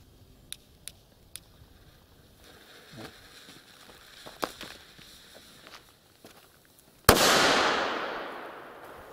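A few small crackles and faint footsteps, then one sharp, loud Vico cannon-shot firecracker blast with a long rumbling decay, heard from close by.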